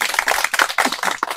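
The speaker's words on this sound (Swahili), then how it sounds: "Tujipige makofi kwenye ile eneo." Brisk clapping from an audience at a port workers' union meeting in Dar es Salaam, quick uneven claps close by, lively and loud for a short burst.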